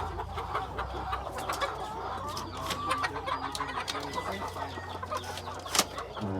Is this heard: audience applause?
no